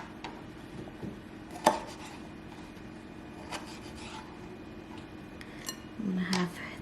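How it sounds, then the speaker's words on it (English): A knife dices cherry tomatoes on a cutting board in a home kitchen, giving a few soft, scattered taps and cuts under low background noise, with a brief clink near the end. "I'm gonna have 3 cherry tomatoes. Just dicing them up."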